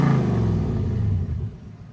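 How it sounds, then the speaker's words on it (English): A Mitsubishi Shogun with a swapped-in Lexus 1UZ V8 idles just after start-up, its deep, steady exhaust rumble recorded close and low, alone without voices. "let's get down low so we get some of that exhaust noise"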